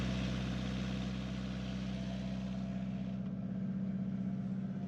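A sailboat's inboard engine runs at idle in its engine compartment, a steady low throbbing drone with a continuous hum and no voices over it.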